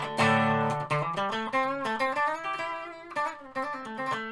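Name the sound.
electric guitar played through bridge pickup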